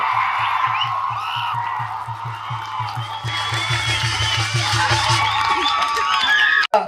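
A political gathering's crowd cheers and whoops loudly and continuously, with rhythmic thumping beats underneath and a sharp knock at the end.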